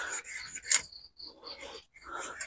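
A knife rasps and scrapes through a red belly piranha as it is cut and skinned, in short gritty strokes with brief pauses, close and moderately loud.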